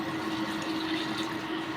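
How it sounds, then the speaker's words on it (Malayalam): Boiled salted water poured into a pickle mixture in a home kitchen, a steady close liquid pouring and splashing that runs evenly throughout with no talk. "ഞാൻ ഉപ്പിട്ട് തിളപ്പിച്ച് വെച്ചിരിക്കുന്ന വെള്ളം കേട്ടോ അതിനകത്തേക്ക് ഒഴിക്കുന്നത്."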